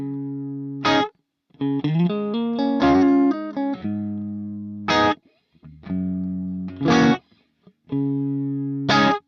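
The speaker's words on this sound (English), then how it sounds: "Let's now try to push a little bit the clean tone with the tube screamer in the front." Electric guitar through a Harley Benton DNAFx GiT Pro multi-effects unit, a clean tone pushed by tube screamer overdrive: strummed chords and ringing note runs with a slightly gritty edge, separated by short gaps.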